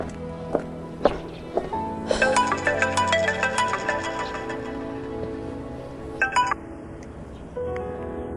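A phone ringtone plays as a melodic series of bright tones over a few seconds, preceded by a few clinks and soft footsteps and followed by a quiet room.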